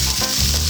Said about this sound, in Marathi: बस आता फोडणीमध्ये पोहे मिक्स करून घेणार आहे